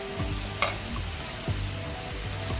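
Chopped onion and ginger-garlic paste fry in oil in a pan, a dense steady sizzle up close with a few sharp ticks and spatula scrapes.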